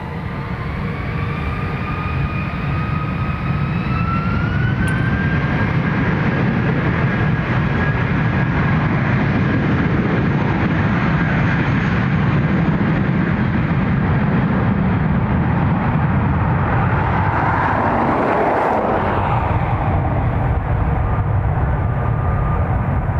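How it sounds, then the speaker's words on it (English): Airbus A320ceo jet taking off from runway 10R at Dublin Airport, a loud continuous engine roar with rising whine tones that holds for over twenty seconds and shifts as the aircraft passes. "I think it's a 320 CEO"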